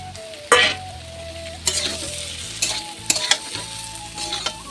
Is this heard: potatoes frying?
yes